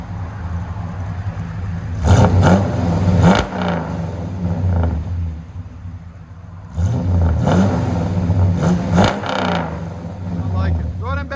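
A 1966 Chevy Impala with a cammed 350 V8 and true dual Borla Pro-XS exhaust revs up twice in loud, deep bursts, idling with a lopey rumble between them, while people talk close by.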